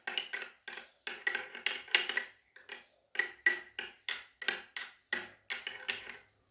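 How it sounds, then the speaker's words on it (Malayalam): A spoon stirs face pack paste mixed with honey in a bowl, giving a close series of sharp clinks and scrapes in a quick, uneven rhythm of roughly two strokes a second, with no voices. "കുറച്ചും കൂടെ തേൻ ഒഴിച്ച് കൊടുക്കുന്നുണ്ട് അത് നല്ലോണം മിക്സ് ചെയ്തെടുക്കുക"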